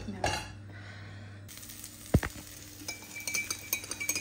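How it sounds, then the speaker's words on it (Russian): Pancakes sizzle and crackle softly in a hot pan, with a sharp clink of a utensil against cookware partway through and light scraping sounds. "сейчас будем обжаривать. Вернее, жарить, обжаривать, как мясо."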